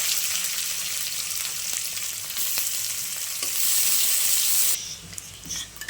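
Chopped garlic frying in hot oil, a dense, close hiss and crackle that holds steady and briefly swells before easing off near the end, with a few faint clicks and no talk.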